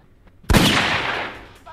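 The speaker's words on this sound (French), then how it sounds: "Là, les pétards sont autorisés." A firecracker goes off in a single sharp, loud bang that decays over about a second after a quiet lead-in, with faint noise trailing behind.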